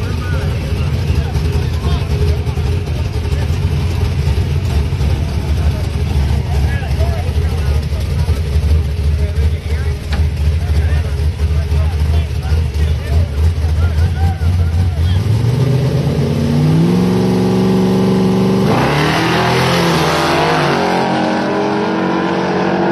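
A Camaro makes a drag-racing pass at a street outlaw event, a loud engine roar running under a commentator's voice, then climbing sharply in pitch as it accelerates hard toward the end.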